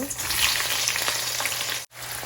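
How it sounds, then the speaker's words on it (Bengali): Chopped onions dropped into hot oil for a dried loitta fish bhuna, a loud close crackling sizzle that cuts out for an instant near the end before resuming. "তেল অলরেডি গরম হয়ে গিয়েছে এখন আমি প্রথমেই দিয়ে দিব কুচি করে রাখা পেঁয়াজ কুচি দেব"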